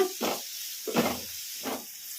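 Grated radish stirred and fried in a pan, three soft hissing bursts of sizzle at a slow, even pace, close and fairly quiet with no talking.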